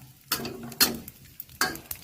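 Sharp scraping and sizzling bursts as a spatula tosses grilled fish with chilies in oil in a hot pan, three or four strokes in quick succession.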